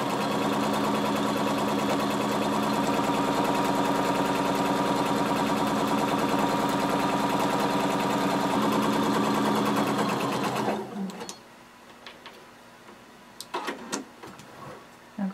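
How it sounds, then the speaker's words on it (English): A sewing machine runs a continuous stay stitch along the shoulder of a jumpsuit, loud and steady for about ten seconds, then stops and leaves a few faint handling clicks. "starting at the shoulder, we're going to stay stitch just so that this doesn't stretch when we attach our facings"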